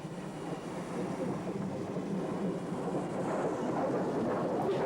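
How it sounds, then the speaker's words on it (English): Dean Goods steam locomotive hauling an engineer's train north through a station, a steady loud rumbling roar that builds slightly toward the end, with no distinct exhaust beats standing out. "A Dean Goods is heading north through the station with an engineer's train"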